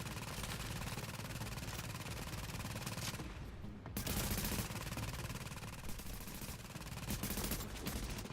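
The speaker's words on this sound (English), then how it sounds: "I am fighting using a submachine gun to do a distance shot" Sustained submachine gun fire from a firefight in Tom Clancy's The Division, with rapid automatic bursts rattling almost continuously, a brief lull near the middle, then more bursts and sharp single reports resuming.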